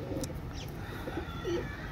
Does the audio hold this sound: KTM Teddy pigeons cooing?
yes